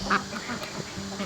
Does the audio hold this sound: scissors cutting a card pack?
no